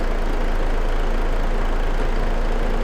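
Lorry engine idling in the Farming Simulator 22 video game, a steady low diesel rumble with a constant hum, continuous and close, no talking.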